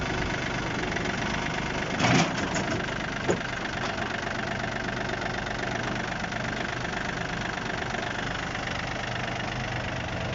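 A four-wheel-drive mini tractor's small engine runs steadily and evenly at idle for the whole stretch, with a couple of brief clanks near the start.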